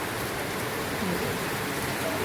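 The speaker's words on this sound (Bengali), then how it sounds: "বৃষ্টি হচ্ছে তো বৃষ্টি বেশিক্ষণ থাকবেও না" Rain falls steadily outdoors during a short shower, a dense, even patter of drops on surfaces that stays constant and moderately soft from start to finish.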